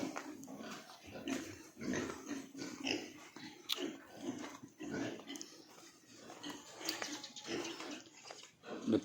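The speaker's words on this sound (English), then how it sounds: "That's a bonny little pig." Pigs on a farm grunt and snuffle close by, a run of repeated low grunts and snorts with small pauses between them, steady in level throughout.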